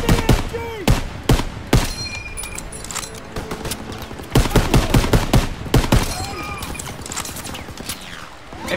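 Call of Duty WW2 D-Day battle, with sharp machine gun and rifle shots cracking in loud bursts and single reports close by, explosions and battle clatter between them, while someone talks over the action.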